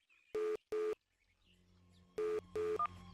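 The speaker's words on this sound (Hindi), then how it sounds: "मैं तुम्हारे को अभी फोन कर रहा हूँ" A telephone is dialed, sounding as four crisp keypad beeps in two pairs with a brief pause between, then a short higher tone. A quiet low hum sits underneath.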